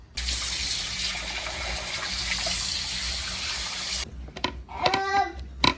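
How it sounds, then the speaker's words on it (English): Tap water gushes steadily into a sink while a raw skinless, boneless chicken breast is rinsed, a loud continuous stream that cuts off near the end, followed by clatter and splashing handling sounds. "wash your meat, okay?"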